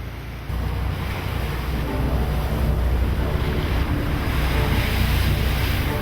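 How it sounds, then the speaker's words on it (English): Blustery wind roars across the microphone over steady breaking waves at sea off the Faroe Islands, aboard a sailboat just out of harbour, loud and continuous throughout. "It was blustery when we left the protection of the harbour."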